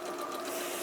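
A domestic sewing machine stitches fabric in a short, fast, steady mechanical whir, close and continuous for under a second.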